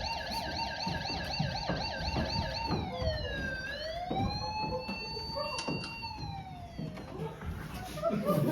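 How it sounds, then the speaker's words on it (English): A wailing siren rises and falls repeatedly, fairly close, with voices talking beneath it. "That's the fifth siren in the last hour."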